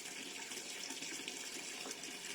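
A water tap running into a bucket left out for pigeons: a steady, continuous rushing stream, fairly soft and unbroken throughout.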